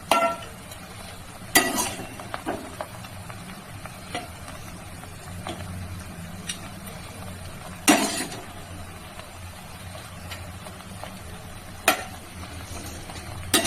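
Chicken pieces fry with potatoes in a pot for chicken biryani. A steady hiss of sizzling runs throughout, broken by a few sharper scrapes and clinks of utensils against the pot.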